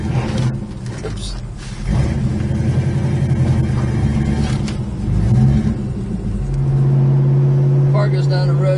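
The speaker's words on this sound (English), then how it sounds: "Car goes down the road straight as an arrow." A 1969 Plymouth GTX drives along the road, its engine a loud, close, deep rumble that swells as the car accelerates and shifts, then settles into a steady drone.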